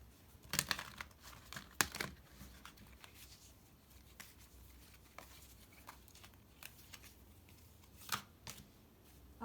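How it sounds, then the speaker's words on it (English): Playing cards drawn from a deck during a pick-a-card reading, heard as quiet, sharp flicks and shuffling snaps, with distinct bursts near the start and again near the end, and soft rustling between them. "And then I'm just going to draw a map card"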